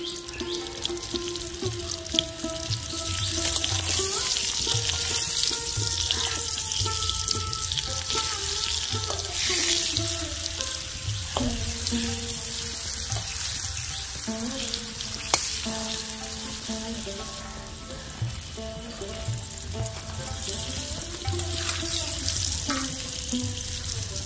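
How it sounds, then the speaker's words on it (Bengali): Potatoes dusted with turmeric fry in hot oil with a steady, dense sizzle and crackle throughout, joined by occasional stirring scrapes and faint background tones. "আলু ভাজা হয়ে গেছে, এবার আমি আলু তুলে নেব"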